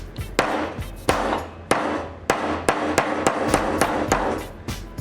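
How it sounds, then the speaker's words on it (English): Ball peen hammer striking copper pipe to texture it, a steady series of sharp metallic taps roughly two per second, close and loud, with no speech. "I've got a ball peen hammer here"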